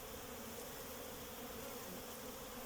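Honeybees gathering pollen make a steady, continuous buzzing hum, close and even in level, with no pauses and no voices.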